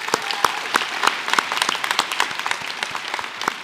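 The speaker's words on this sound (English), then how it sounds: "Let's give her another round of applause" Steady applause from an audience at a senior school prizegiving, many scattered sharp claps forming a continuous patter without talk.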